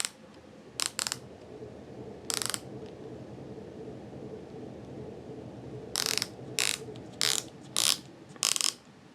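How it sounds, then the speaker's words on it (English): Unidirectional rotating bezel on a Swatch Bioceramic Scuba Fifty Fathoms Blue Lagoon watch gives short, crisp ratcheting clicks. They come singly and in quick clusters over a quiet background, close and fairly loud, with no talking. "the bezel as well is a unidirectional or one-way rotating bezel"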